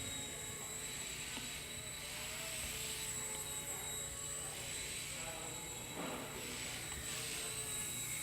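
A Walkera Genius CP flybarless RC helicopter's rotor noise whirs steadily throughout, a constant mechanical buzz with a high whine, growing slightly louder toward the end, without talking.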